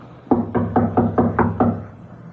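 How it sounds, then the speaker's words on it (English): Six firm, evenly spaced knocks on a wooden door, close and distinct, with a short pause before the last two. "Knock again."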